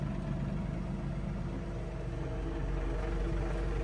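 A John Deere 3046R compact tractor engine idles steadily at a low, even rumble, quiet and constant throughout with no voices.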